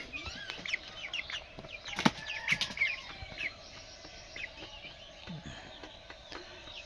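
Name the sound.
broiler chicks clucking on a poultry farm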